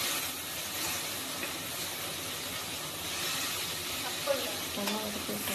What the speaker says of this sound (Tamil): அந்த பூண்டு, மல்லிச்செடி, புதினா போட்டு அரைச்சி வச்ச பேஸ்ட் அதை ஊற்றிக்கலாம்.